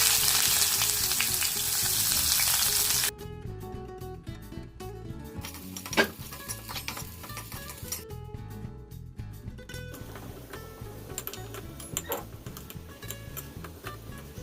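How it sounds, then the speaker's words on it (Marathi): Sliced onions frying in hot oil for onion rice, a loud hiss at first, then a steadier crackling sizzle with intermittent ticking pops and a sharp clink near the middle. "आता तेल तापलेलं आहे त्याच्यात मी कांदा घालते"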